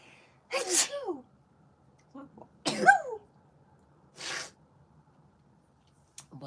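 Several sharp sneezes burst out close to the mic, spaced apart in a quiet room, with a short throat-clearing cough between them and no talking.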